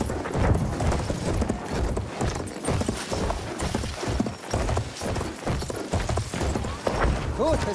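Horse hooves clip-clop in a quick, steady rhythm close by, with a brief whinny near the end and occasional voices underneath.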